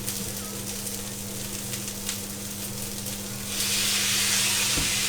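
Thai fried rice with soy sauce being stir-fried in a pan gives a steady close sizzle that swells into louder, harsher frying hiss near the end, with no talking.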